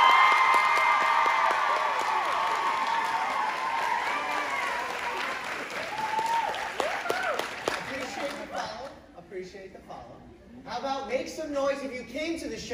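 A live theater crowd at a touring show in Washington, D.C. bursts into loud applause, cheering and whoops, sustained for several seconds before thinning into scattered shouts and claps.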